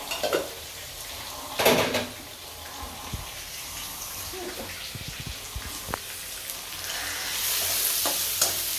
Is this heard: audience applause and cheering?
no